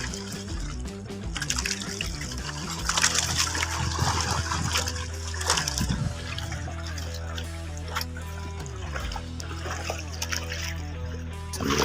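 Water splashing and sloshing around a swimmer at sea near a fish aggregating device, steady close churning with dripping and bubbling throughout.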